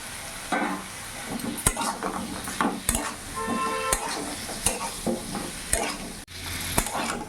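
Fried papaya and potato being stirred into a spiced masala in a pan, with sharp spoon scrapes and knocks against the metal over a steady sizzle, with no one speaking.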